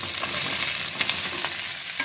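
Red and yellow paprika are stir-fried with beef in a pan, a steady close sizzle with a few scraping stirs of the spatula and no voices.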